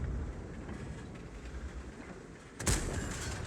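A single tank cannon shot in a tank video game, an M60 in play, erupting as one loud sharp blast after a low steady engine rumble.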